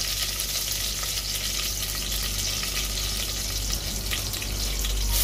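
Onions and curry leaves frying in hot oil for a chicken curry, a steady close sizzle running the whole time with light stirring scrapes and no voices.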